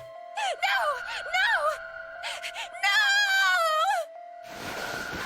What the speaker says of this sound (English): It was an eerie scream full of insanity and not entirely human.